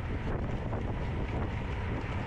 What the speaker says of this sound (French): tu entends le vent, hein.